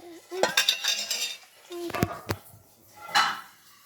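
A spoon clinks and scrapes against a dish while sugar is being mixed, several sharp metallic knocks in separate bursts with quiet gaps between them.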